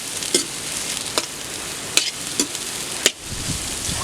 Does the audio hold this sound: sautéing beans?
yes